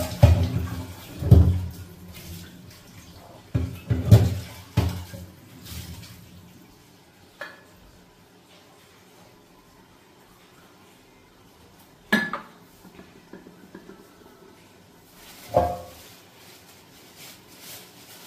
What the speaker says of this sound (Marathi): पण अगोदर भांड्याचा राडा कमी करते. भांडे घासले ना बाकीचं काम